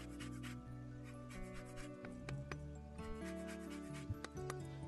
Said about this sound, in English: I like to use a little lemon zest from half a lemon. Just use a microplane, or you can use your cheese grater or a little hand zester.